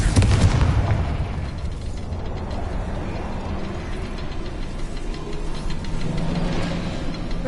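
Confringo fire spell explosions in Hogwarts Legacy on PS5, a loud rumbling blast at the start that fades into a sustained booming roar, with no voices.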